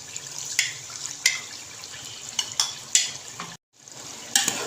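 Yogurt being stirred into beef karahi gosht in a pan, with a gentle simmering sizzle underneath. Repeated wet scraping strokes of a spoon come at a steady rhythm, with a short silent gap near the end.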